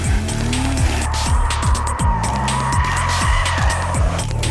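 A 2011 BMW 1 Series M Coupe spins out with stability control switched off: loud, continuous engine roar under tire squeal and skidding, with repeated rising-falling engine revs as the wheels spin and slide.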